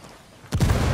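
A frag grenade detonates in Ghost Recon Wildlands during a 4v4 PvP match, a sudden loud close boom after a brief quiet stretch, followed by a rumbling decay.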